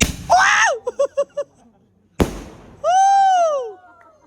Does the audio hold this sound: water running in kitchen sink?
no